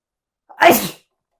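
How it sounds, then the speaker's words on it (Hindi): A single sharp sneeze from a man, loud and close, bursting out alone in a quiet room. "मैं छींक रहा हूँ, खांस रहा हूँ"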